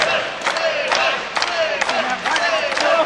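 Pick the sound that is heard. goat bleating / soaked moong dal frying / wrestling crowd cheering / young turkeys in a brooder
wrestling crowd cheering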